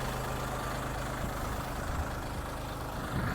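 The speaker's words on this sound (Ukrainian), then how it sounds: "Сподіваюсь, звук роботи двигуна почули." A Lovol 244 tractor's heavy diesel engine idles steadily nearby, a low rumbling drone with constant loudness throughout.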